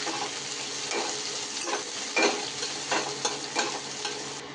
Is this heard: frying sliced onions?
yes